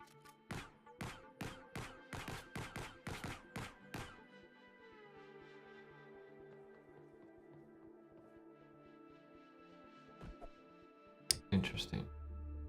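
Pistol fired in a video game, about ten sharp, evenly spaced shots in quick succession at close range, followed by a fading ringing tail and quieter clicks, with a couple of abrupt thumps near the end.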